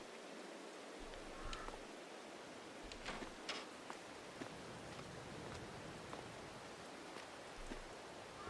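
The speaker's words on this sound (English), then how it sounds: "Oh, it's raining." Steady hiss of rain in the farming game Farming Simulator 22, a soft continuous wash of noise with a few faint clicks scattered through, no speech.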